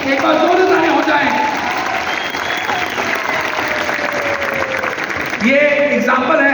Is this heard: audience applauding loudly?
yes